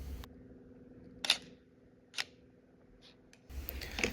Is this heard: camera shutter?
yes